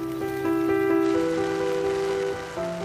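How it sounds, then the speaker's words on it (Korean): Rain falls steadily all day on Sakhalin as a constant hiss of drops on surfaces, heard under sustained melodic music. "오늘은 하루 종일 비가 내리고 있다"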